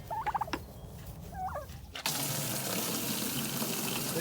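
Turkeys gobble in short warbling bursts on a pasture farm, a little distant, before loud rushing water suddenly starts and runs steadily to the end.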